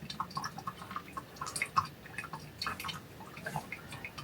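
Hot water poured over freshly ground whole-bean coffee, giving soft irregular drips, fizzes and small bubbling pops close by, with no talking.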